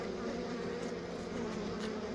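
Honeybees humming inside an opened hive as dead bees are cleaned out, a faint, steady, close buzz with a low drone underneath and no voices.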